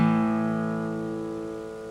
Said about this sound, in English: It should sound like this when you play the 5th and 4th strings together.